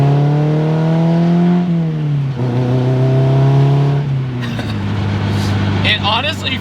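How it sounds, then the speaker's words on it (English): A Honda K24 engine swapped into a Porsche revs hard through several rising pulls, each ending with a drop in pitch. It sounds close and loud, with a voice briefly speaking near the end. "like a Honda rev limiter behind you"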